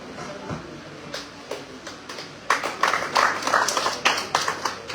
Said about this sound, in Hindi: तो एक बार जोरदार तालियां हमारे सम्मानित अतिथि श्री अजय गोयल जी के लिए भी